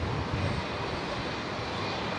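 A Jetstar Airbus A321neo landing at Brisbane airport gives a steady broadband engine roar, moderately distant and continuous, with no talking over it.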